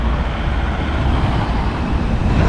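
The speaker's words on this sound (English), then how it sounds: "I'll just wait for the traffic to subside" Steady road traffic rumbling past a roundabout in Morley, Leeds, with continuous engine drone and tyre noise from cars and vans, loud and close, no voices over it.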